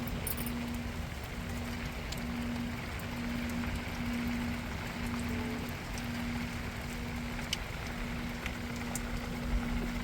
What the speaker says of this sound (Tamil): அப்படியே மலைக்கு பாருங்கள் மழை பேஞ்சிக்கிட்டு இருக்குது.